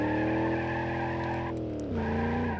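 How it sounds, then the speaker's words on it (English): Sustained tire screech over a droning engine in the video game BeamNG, a continuous squeal that shifts pitch partway through, loud and unbroken. "I'm also pretty sure that they changed the tire screech noise"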